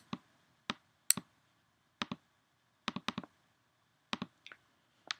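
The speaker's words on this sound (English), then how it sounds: "I used my keyboard." Light clicks of typing on a computer keyboard come in sparse single and paired taps separated by short pauses, close but quiet in an otherwise silent room.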